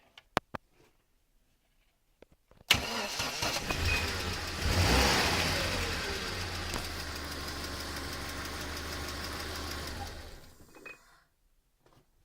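A ZMZ-406.3 car engine starts and runs with a rough foreign knock, a steady loud idle that swells briefly as it revs, then cuts off near the end after some faint clicks at the start.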